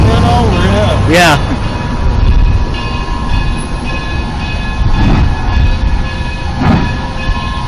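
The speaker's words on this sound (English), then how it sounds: "Be careful of the train. Because it's departing." A train departing along the tracks, heard loud and close: a steady rolling rumble with periodic clacks and squeals from the wheels, with a brief horn-like tone near the start and voices talking over it.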